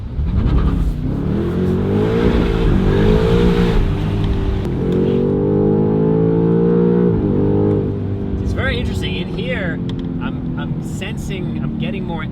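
Cabin view of a BMW G90 M5 with a Valvetronic Designs valved sport exhaust, a loud V8 rumble revving through gears, then lifting off into a burst of crackling overrun pops near the end.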